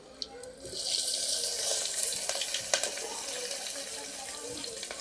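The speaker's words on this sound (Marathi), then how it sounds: "सोबतच थोडंसं मी पाणी ॲड करते कारण ताक आपलं ते फाटू नये म्हणून" Water splashes steadily into a pot of buttermilk for kadhi, a continuous pouring hiss with a few small clinks, close and fairly quiet.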